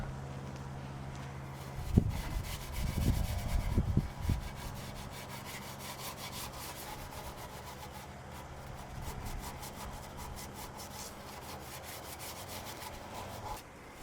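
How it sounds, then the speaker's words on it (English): A Scotch-Brite pad scrubs grime off a filthy engine pan on a Ford engine, a steady soft rubbing hiss with a few louder scrubbing strokes early on. "I'm just using a Scotch-Brite pad and like barely any effort, and the stuff's just like coming right off"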